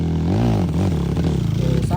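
Motorcycle engine revving loudly and close, the pitch rising and falling in uneven surges, with a person talking over it.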